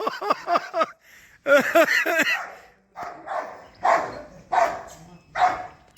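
A dog barks repeatedly at close range, a quick run of sharp barks followed by several louder, separate barks with short pauses between them.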